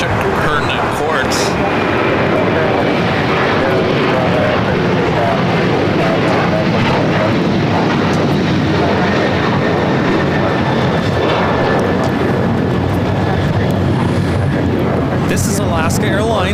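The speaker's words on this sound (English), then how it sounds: "This is Alaska Airlines 1352 taking off to San Jose, Costa Rica on the 737-800." An Alaska Airlines Boeing 737-800 takes off at LAX, producing a loud, continuous jet roar with crackling low rumble across the whole span, with a voice speaking over it.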